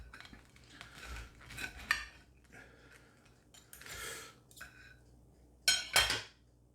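A knife cuts a toasted tuna melt sandwich in half, giving scattered scrapes and clinks of cutlery against a plate in short, separate bursts, fairly quiet and close.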